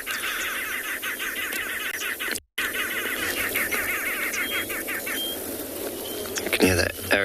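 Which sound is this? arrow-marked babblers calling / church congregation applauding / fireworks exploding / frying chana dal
arrow-marked babblers calling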